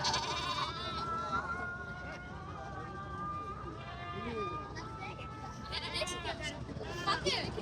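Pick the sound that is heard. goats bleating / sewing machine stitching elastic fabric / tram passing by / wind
goats bleating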